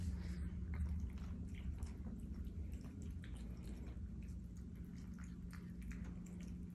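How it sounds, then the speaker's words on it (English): A dog eats from a new food bowl, close soft crunching and wet chewing with small clicks and drips in a quiet room. "look at you standing up while eating"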